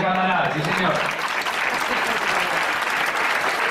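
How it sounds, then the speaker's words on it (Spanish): Crowd at a festival committee gathering in Villaviciosa breaks into loud, dense clapping that holds steady for several seconds, with voices mixed in near the start. "Un aplauso para los de Candanal, sí señor."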